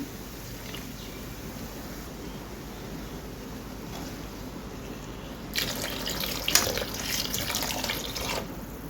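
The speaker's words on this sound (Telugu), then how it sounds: "కొంచెం వాటర్ కూడా వేసుకుందాము" Water pours in a short splashing stream into a pan of egg and lentil-dumpling masala curry for a few seconds after a quiet stretch of low background hiss.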